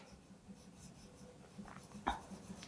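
Marker or chalk scratching across a classroom board while notes on body functions are written, a few soft faint strokes with one brief sharper stroke near the end, no talking.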